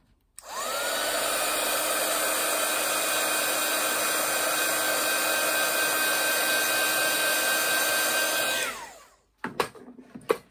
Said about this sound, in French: Je vais sécher avec le heat gun ça pour vous montrer ce qu'on peut faire